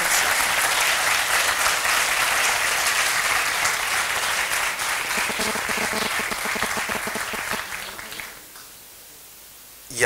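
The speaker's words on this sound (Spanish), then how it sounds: "Un aplauso." Applause at the Almendrero en Flor proclamation ceremony in Valsequillo, a sustained round of clapping from an indoor audience that fades out near the end, leaving near silence.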